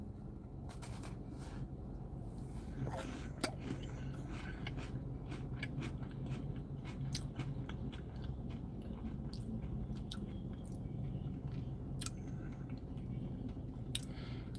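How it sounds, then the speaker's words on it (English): Biting into and chewing an Oreo crunch cookie close to the microphone: a steady run of soft crunches and moist chewing, with sharp bite clicks scattered throughout and no talk. "Definitely Oreo crunch."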